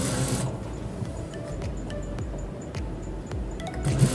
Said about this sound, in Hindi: इस तरीके से भी ये सिलाई लगाते जाएंगे आप